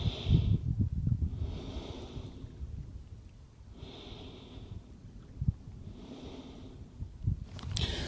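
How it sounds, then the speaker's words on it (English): Slow, deep breathing during a yoga session, picked up close on a microphone: long inhales and exhales in a steady, unhurried rhythm with no talk. "You can hear me breathing on the mic"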